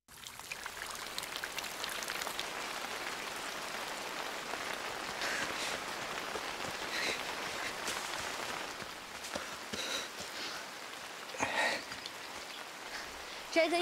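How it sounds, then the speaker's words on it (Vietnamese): Heavy rain falls steadily in an outdoor setting during an action adventure scene, a dense hiss that stays constant throughout with a few louder splashes near the end. "Mưa to vậy đừng nghe người đã nữa."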